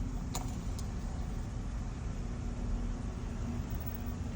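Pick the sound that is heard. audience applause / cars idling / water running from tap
cars idling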